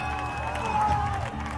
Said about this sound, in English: huge cheer from the Spanish audience there